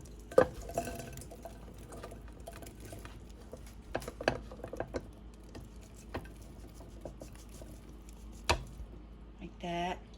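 Mulberries being tipped from a colander into a pot on the stove, quiet soft patters and squishy taps with a few sharper knocks of the colander against the pot, under talking.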